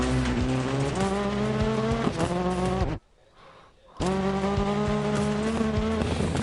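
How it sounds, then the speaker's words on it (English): A rally car in DiRT Rally on a stage in Australia screams at high revs with loud, rising gear-change engine tones, understeering toward a barrier, cutting out abruptly for about a second before roaring back. "Coming in, understeer. Smack the barrier, away she went."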